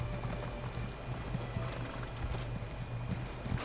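Faint hoofbeats of a horse in the Elder Scrolls Online game, a steady clip-clop rhythm running the whole time under low ambient hum, with a hint of whinny and no talking.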